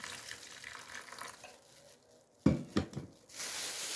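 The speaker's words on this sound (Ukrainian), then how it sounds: "І наливаю, заливаю також водичкою." Water is poured into a container to be frozen around a flower: a steady gushing pour that thins out, then a few sharp splashes and knocks before the flow resumes.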